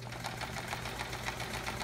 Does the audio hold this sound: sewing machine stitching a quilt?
yes